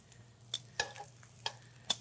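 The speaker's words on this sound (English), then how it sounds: "saute them really quick, really quick" Pieces of already cooked broccolini are sautéed quickly in a pan to reheat them, with a soft background sizzle broken by several sharp clinks and taps of a utensil against the pan.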